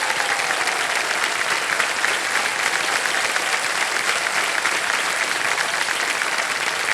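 A studio audience on the game show Kaun Banega Crorepati gives loud, sustained applause that fills the room at a constant level throughout, with no break.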